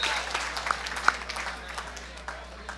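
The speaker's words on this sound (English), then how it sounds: "let's have a nice round of applause for both boxers" Crowd applause for both boxers at an amateur boxing event in Tampa, Florida, moderate and somewhat distant, a dense patter of clapping that fades gradually.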